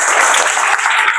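A group of children at a school awareness camp claps together in a dense, continuous burst of applause, loud and close, lasting only a moment.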